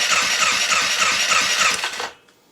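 Polaris Sportsman 500 ATV engine cranking over with ignition on and throttle wide open during a compression test, a rapid rhythmic starter churn for about two seconds that then cuts off into silence, with no voices.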